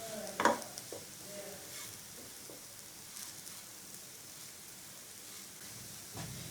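A spoon stirs semolina halwa in a pan over a very low flame, giving soft, scattered scraping and faint sizzling, with one louder scrape near the start, all quiet and close.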